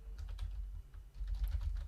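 Typing on a computer keyboard while entering accounting data: soft, quick, irregular keystroke clicks close by, with short pauses between bursts.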